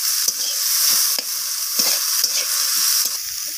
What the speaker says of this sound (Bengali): তো বেগুনটাকেও আমি এইভাবে নাড়াচাড়া করে নিচ্ছি।